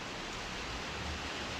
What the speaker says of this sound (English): it's raining straight down